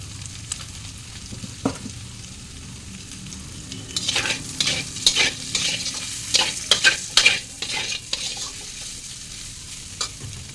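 Ground cumin and chana masala stirred and fried in a hot pan, a low sizzle at first, then a run of loud scraping stirs in the middle before it settles, no voices.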